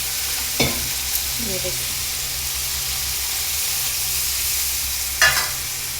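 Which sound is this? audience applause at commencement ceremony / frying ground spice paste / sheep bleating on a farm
frying ground spice paste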